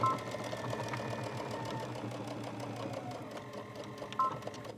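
A sewing machine stitches and back stitches a fabric hand warmer, a continuous fast mechanical whirr with rapid needle ticking, close and steady with a small clunk near the end.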